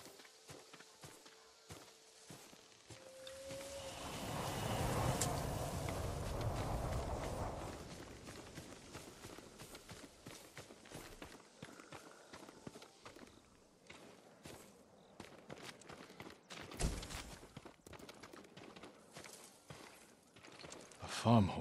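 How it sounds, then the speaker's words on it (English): Horse hooves in the video game Ghost of Tsushima make soft, irregular clopping steps mixed with other quiet game ambience, with voices speaking in between. "I want to look at his horse."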